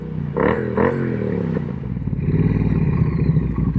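A Triumph Street Twin 900cc inline-twin engine with a 270 crank and two-into-two exhaust blips loudly twice near the start, then settles into a throbbing, uneven burble at close range.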